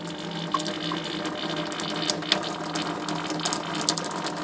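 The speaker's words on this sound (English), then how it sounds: "we're going to turn this on, and we're going to have water run through that" Water rushing steadily through a filter while the line is flushed, a constant hissing flow with faint mechanical clicks and small ticks scattered throughout, close and unbroken with no talk.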